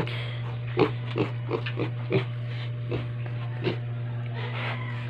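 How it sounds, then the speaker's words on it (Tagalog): A piglet on a farm gives a series of short, soft oinks and snorts, spaced irregularly over a steady low background hum. "Maliit na biik."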